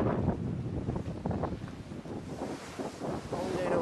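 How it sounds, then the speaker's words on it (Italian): Strong wind of about 34 knots buffeting a sailboat at sea while it runs from a cyclone near an iceberg zone, a steady roaring rush with gusts and water noise continuing throughout, loud and close. "ci sono circa 34 nodi di vento e stiamo scappando via da questo ciclone"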